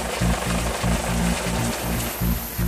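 Loud, rhythmic thumping of a hovering Coast Guard helicopter's rotor blades close by, with a broad engine roar and rushing wind over the beating pulses.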